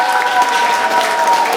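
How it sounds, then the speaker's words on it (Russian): Applause at a school last-bell ceremony for ninth-grade classes, a loud, dense burst of crowd clapping that is brief and continuous. "Аплодисменты."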